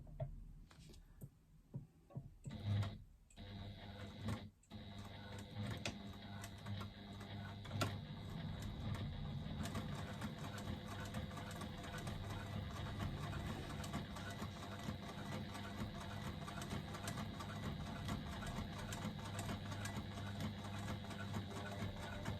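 A sewing machine stitches a seam using a construction-length stitch, running steadily and quietly for a long stretch after a few brief starts, with no talk.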